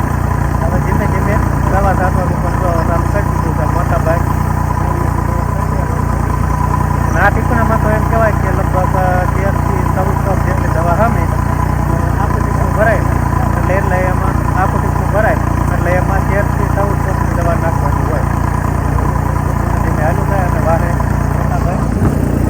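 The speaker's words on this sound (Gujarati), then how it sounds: "તો હવે આપણે થઈ ગયા છે ટ્રેક્ટરના આગલા મોટા ઉપર કેમ કે પાછળ ભર્યું છે ટીકણું અને ટીકણામાં વજન બહુ એટલે ટ્રેક્ટર ઉલી જાય છે" A tractor engine runs steadily close by, its trailer heavily loaded, a constant loud low drone throughout with people talking over it.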